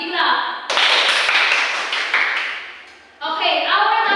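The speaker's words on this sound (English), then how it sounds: "Give yourself a big clap" A classroom of students claps together for themselves, a loud burst of hand claps that follows a teacher's speech, fades, and then gives way to talking again.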